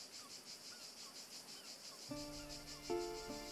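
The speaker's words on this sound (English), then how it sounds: "The crickets. The sound of crickets." Crickets chirping in the Wartales video game, a steady pulsing trill in the background that continues as soft music tones enter partway through.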